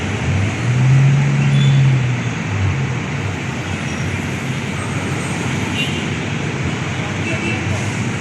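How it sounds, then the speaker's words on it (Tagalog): Dense road traffic on EDSA in Manila, a steady loud roar of engines and tyres with a low rumbling hum lifting briefly near the start, continuous throughout with no pauses. "Nakikita nyo ngayon ang traffic dito sa ano, sa may EDSA."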